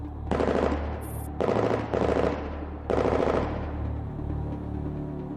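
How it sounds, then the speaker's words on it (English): Loud automatic gunfire in the video game Girls' Frontline, four long rattling bursts separated by brief pauses, followed by a fading echoing tail. "The air resounds with fierce gunfire."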